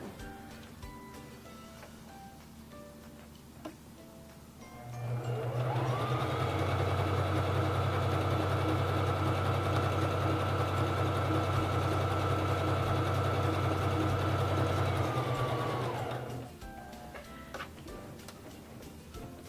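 A Singer 3333 sewing machine stitches a wide zigzag for about eleven seconds, its steady motor whir and fast needle clatter starting and stopping abruptly against a quiet background.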